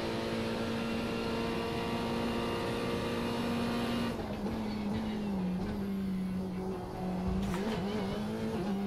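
A race car engine in the iRacing sim racing game drones steadily and loudly throughout, with a sustained tone that dips briefly about midway and again near the end. No voices are heard.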